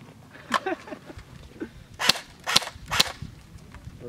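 An SRT10 airsoft replica fires a short burst of sharp, close cracking pops, a few spaced shots followed by three quick snaps in succession.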